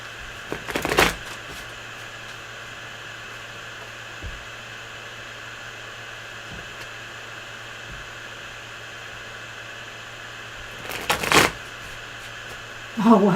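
Tarot cards shuffled in two short bursts at the start and near the end, set against steady background hiss and a low hum, with quiet taps in between.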